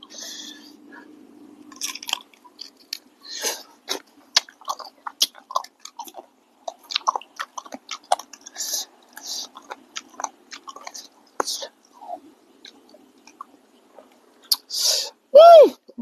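Spicy chicken feet salad with fish sauce being eaten by hand, giving close, wet chewing and soft crunching bites in an irregular rhythm, with a brief voice near the end.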